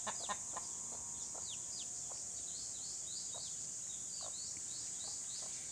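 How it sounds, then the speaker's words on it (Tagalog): Roosters on a rural Philippine farm crow and chirp at a distance, several short calls over a steady hiss of insects or background noise. "Yan yung mga roster, yan ang yung roster ko oh."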